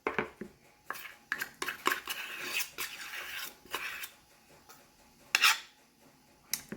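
Dry peanut butter banana dog treat mix is dumped into a regular-size bowl, making a series of scraping, rattling pours and clinks against the bowl, close and moderately quiet, with no talking.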